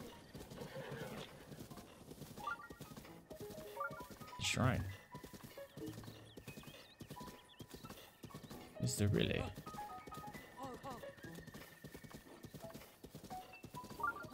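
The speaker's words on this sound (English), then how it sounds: "Look at all the horses here." Horses clip-clop steadily across open country in The Legend of Zelda: Breath of the Wild, with two loud whinnies standing out while a player talks over the hoofbeats.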